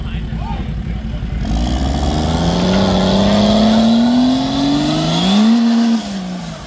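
An engine in a heavy stuck vehicle fires up and revs, its pitch climbing and holding loud and close over several seconds, then dipping and surging again, with tire or drivetrain strain layered in and voices nearby.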